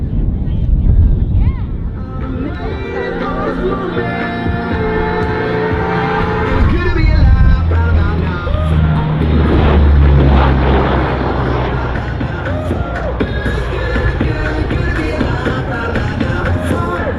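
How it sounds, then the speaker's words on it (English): The C-130 Hercules "Fat Albert" at an airshow accelerates down the runway for takeoff, its propeller engines droning loud and building, with a voice talking over the roar. "They'll accelerate their aircraft to 125 miles per hour, perform a low transition, and execute a high-performance climb"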